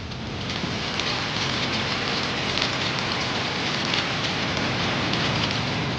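Heavy rain pours down on the flooded streets of Gurugram, a loud, continuous hiss of drops pattering on water and hard surfaces with no pauses.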